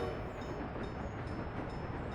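A supply train running in the Workers and Resources city-building game, a steady low rumbling roll with faint clatter that stays even and continuous without breaks.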